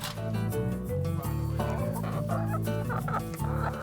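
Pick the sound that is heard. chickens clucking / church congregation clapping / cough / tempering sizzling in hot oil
chickens clucking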